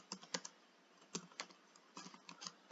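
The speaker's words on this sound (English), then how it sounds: "type something in there" Computer keyboard keys tapped in short irregular bursts, close and fairly quiet, with brief pauses between clusters of keystrokes and no talking.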